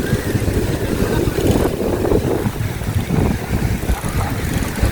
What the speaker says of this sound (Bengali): এরকম এখানে হাওয়া দিচ্ছে দেখুন